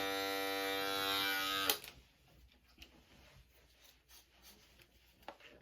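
Electric beard clippers buzz loudly and steadily for under two seconds while trimming thick hair at the sideburn, then cut off, leaving faint rubbing and small handling clicks.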